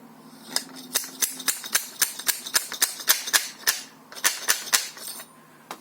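Sharp metallic hammer taps ring out in a steady series, about a dozen and a half strikes, close and crisp, as a fork seal is driven into place on a Honda CM400 motorcycle.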